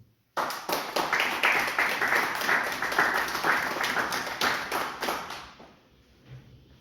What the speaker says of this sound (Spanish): te lo agradecemos con un aplauso